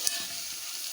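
Boiled bottle gourd pieces go into a pot of fried onions, and a continuous hissing sizzle rises with a brief clink at the start, close and steady without talking.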